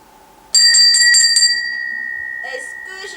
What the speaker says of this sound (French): Est-ce que j'ai entendu quelqu'un devant la porte qui a sonné la clochette?